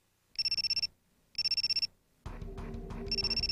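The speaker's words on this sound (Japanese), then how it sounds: "またすぐ携帯電話が鳴った" A mobile phone rings in two short trilling bursts, loud and close, before a background of music and room noise rises as the ringing continues.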